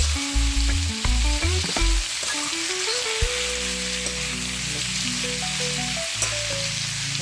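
Ackee and saltfish fry in a pan with a constant close sizzle. Scraping strokes of stirring come at the start, then the frying goes on steadily without any talk.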